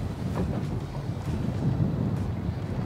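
Strong wind buffets the microphone out on a lake during a spinning fishing competition, a steady low roar with gusty rumbling throughout and no talk.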